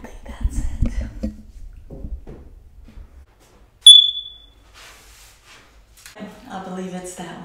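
A single short, high-pitched chirp from a smoke detector with a low battery sounds in a house, loud and close, between stretches of quiet and spoken voices.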